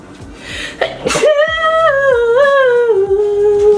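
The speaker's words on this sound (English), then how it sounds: "Hold on, I have to sneeze." A sharp sneeze bursts out up close, followed by a sustained high tonal sound that slowly glides downward.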